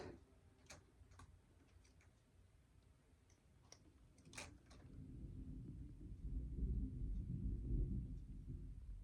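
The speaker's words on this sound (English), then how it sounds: "I don't like the way that thunder's rumbling either." Thunder rolls in as the sky darkens over farm fields, with a few sharp clicks early on before a deep, low rumble swells and stays heavy through the second half, with no talking.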